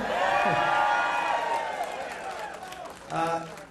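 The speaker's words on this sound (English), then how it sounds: "Go ahead, cheer for yourselves." Green Bay audience at a speaker's speech cheering for themselves, a loud swell of shouts, whoops and applause that fades and then briefly flares again near the end.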